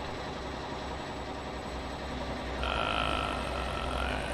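Mack R truck engine idling in American Truck Simulator, a steady low diesel rumble with a vibrating drone that grows slightly louder and gains a higher whine partway through.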